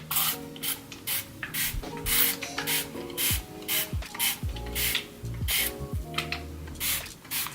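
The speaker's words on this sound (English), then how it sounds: "So I just kind of shake it up and spray my hair down." A spray bottle of leave-in hair spray spritzes onto hair repeatedly in quick bursts, close and loud, interspersed with rubbing and handling noises.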